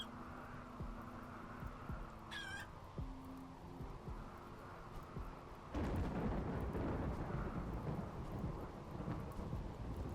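Rain and thunder in the video game RimWorld: steady rainfall hiss throughout, a brief high chirp early on, then a deep rolling thunder rumble that begins midway and continues loudly to the end.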